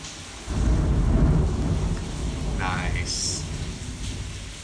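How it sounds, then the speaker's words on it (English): A deep roll of thunder rumbles loudly through steady rain, swelling early and then fading into a lower grumble, with a brief higher-pitched sound near the end. "I love thunder."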